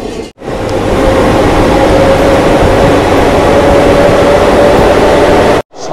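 Inside a Vande Bharat Express running through a tunnel between Katra and Srinagar, a loud, steady roar and rumble fills the cabin, cutting in and out abruptly at each end.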